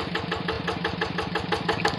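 A Yanmar tractor engine runs steadily in a rice field, climbing a paddy dike, its fast even chugging pulses loud and close with no talk.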